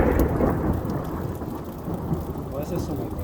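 Thunder rolls through a rainy thunderstorm over Stocksbridge, UK, a deep, continuous rumble swelling and fading beneath a steady hiss of falling rain.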